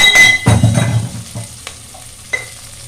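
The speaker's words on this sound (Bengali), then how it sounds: "মশলা ভাজা হয়ে গেছে" Spices with half a tomato, grated ginger and two green chilies frying in a pan, a loud stir and sizzle at the start, then fading crackles with a few utensil clinks.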